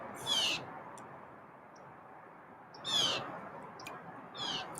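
Chirpy, a pet bird, gives three short high calls spaced a couple of seconds apart in a quiet room, with a faint tick at the end.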